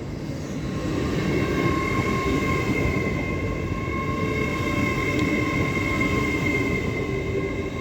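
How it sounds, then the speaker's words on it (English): LNER train running through York station on the East Coast Main Line, a steady loud rumble of wheels with humming traction tones rising gently and holding, then easing slightly toward the end. "This is an LNER service from London King's Cross to Inverness."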